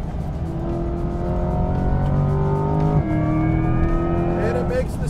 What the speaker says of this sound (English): it makes the Space Jetsons noises to let you know when you're using that front axle power